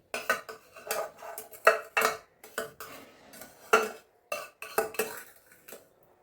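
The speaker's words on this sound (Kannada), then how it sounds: "ಅಷ್ಟು ರವೆಯನ್ನು ಇದಕ್ಕೆ ಮಿಕ್ಸ್ ಪಾಕಕ್ಕೆ ಮಿಕ್ಸ್ ಮಾಡ್ತಾ ಇದ್ದೀನಿ" Roasted rava for laddu is stirred into sugar syrup in a metal pan, a spoon scraping and clanking against the sides in quick, uneven bursts, close and clear, with no talk.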